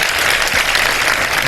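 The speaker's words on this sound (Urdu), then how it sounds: "اگر آپ لوگ تالیاں بجائیں تو میں ٹریک چلواؤں" Dense, loud studio audience applause on a televised Ramadan iftar show, continuous clapping filling the whole moment with no one speaking.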